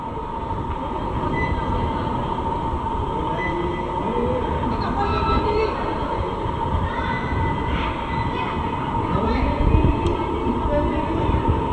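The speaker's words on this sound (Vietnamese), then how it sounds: "Đây là ga tàu điện ngầm ở Cao Hùng, Đài Loan, một trong những cái ga rất là lớn đấy." Subway train at a large metro station in Kaohsiung, Taiwan, a continuous loud rumble and rolling roar filling the platform, with faint metallic squeals and a steady high tone above it.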